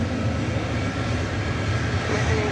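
Jet engines of a UPS cargo plane at DFW Airport at night, a steady, loud broadband roar that holds evenly throughout, with faint speech-like murmur mixed underneath.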